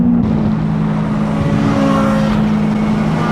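A Chevrolet Corvette C8 sports car driving at speed on a track, a loud steady engine drone with a strong low hum throughout, no talk.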